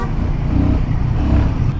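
A 400cc motorcycle accelerates in third gear with a loud, close, steady engine roar and a throbbing low rumble that holds for under two seconds with no speech.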